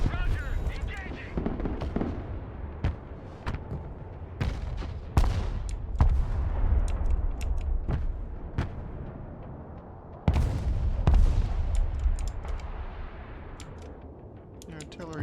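Artillery fire in the real-time strategy game Broken Arrow during a refinery invasion battle, sharp booms and cracks scattered irregularly over a constant low rumble, some louder blasts standing out, with radio voices talking over the action.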